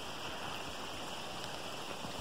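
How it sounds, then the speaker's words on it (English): A steady, unbroken roar of wind from Hurricane Irma fills the whole stretch, loud and even with no pauses. "it's getting windy"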